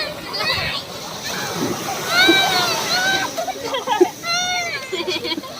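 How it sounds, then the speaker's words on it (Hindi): Loud splashing and sloshing of sea water as people jump into the sea at Baga Beach, Goa, mixed with excited voices and shouts throughout. "आते ही समंदर में कूद गए।"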